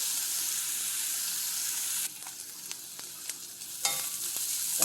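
Onion, green chili, garlic and fennel seeds with turmeric and salt sauté in hot oil in a pan, a steady close sizzle broken by a few light stirring scrapes, quieter in the middle before flaring again near the end.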